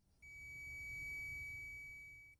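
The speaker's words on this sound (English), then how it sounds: "when you put your leads together, you get a beeping sound" A multimeter set to continuity gives one steady, unbroken high-pitched beep when its test leads touch, lasting about two seconds and heard alone in a quiet room.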